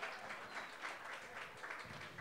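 A live studio audience at a Spanish-language talk show applauds, a faint, steady patter of many hands clapping at once, continuing evenly throughout and sounding somewhat distant.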